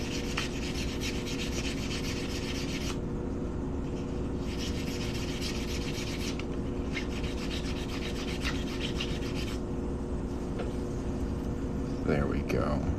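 Steady rasping rub of smoothing a handmade coin ring, continuous and fairly close, with brief pauses and a faint hum of room noise underneath.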